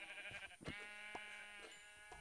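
Sheep bleat in the Minecraft video game, several short game-sound bleats at moderate level over a busy background of game noise, with no talking.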